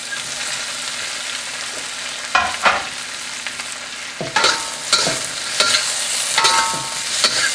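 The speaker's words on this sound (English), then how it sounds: "Stir fry for a minute or two." Vegetables and pork stir-fry in a hot pan with sherry cooking wine, a constant loud sizzle broken by repeated scraping and clattering strokes of the spatula.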